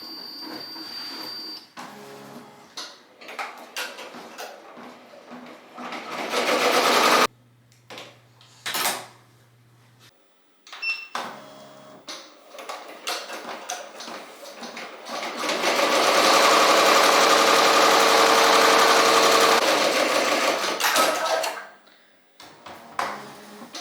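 A Ricoma MT-1501 embroidery machine stitches in rapid rhythmic bursts, with loud sustained runs broken by pauses, short mechanical clicks and brief tones, close by and without speech.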